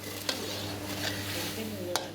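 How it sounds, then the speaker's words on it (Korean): Ingredients frying in oil in a Chinatown restaurant kitchen in Malacca, a steady sizzling hiss with a few sharp clinks of utensils against the pan, close and continuous without talk. "재료란 재료는 모조리 기름에 튀기고 있다."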